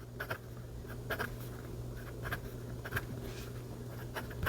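A Cedar Penbbs 480 fountain pen scratches across paper in short, close strokes, soft gritty bursts broken by brief pauses as letters form, over a low steady background hum.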